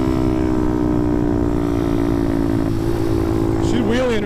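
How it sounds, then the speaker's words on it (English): A carbureted motorcycle holds a smooth wheelie at about 70 mph in fifth gear. The engine drones loud and steady under strong wind noise, with the pitch wavering upward toward the end. "She's wheeling real smooth though."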